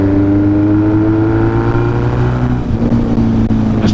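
A Yamaha XS1100 cafe racer motorcycle with a big bore kit and performance head chugs uphill in a high gear, its engine a loud, steady low drone right up close that dips briefly near the end.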